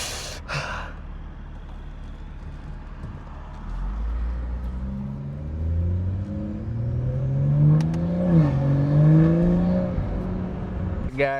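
Upgraded BMW engine running and revving, with rising and falling harmonic sweeps as the revs climb toward the end; a loud cabin rumble sits under faint breathing noises.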